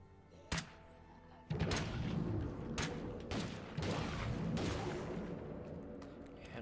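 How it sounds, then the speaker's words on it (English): Target pistol fired in State of Decay 2, a handful of sharp, separate shots with heavy thuds spaced a second or so apart over a dense, rumbling game background. "let's use our target pistol"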